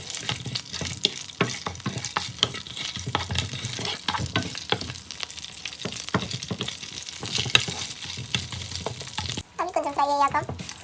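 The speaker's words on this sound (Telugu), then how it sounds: "ఇప్పుడు ఇందులో ఫస్ట్ మన దినుసులు బిర్యానీ దినుసులు వేసేసుకొని వాటిని ఫ్రై చేసేసుకొని" Whole biryani spices frying in hot oil in a pan for bagara rice, a dense close sizzle with steady stirring scrapes throughout, then a brief burst of running tap water near the end.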